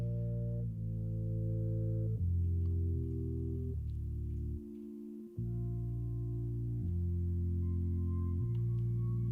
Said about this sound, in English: synthesizers layered in 4-part harmony like a Bach chorale,